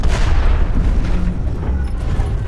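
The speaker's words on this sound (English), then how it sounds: "So I like this heat cannon a lot." Heavy booming blasts of a heat cannon in the mech combat game Hawken, low rumbling shots rolling continuously with no pause between them.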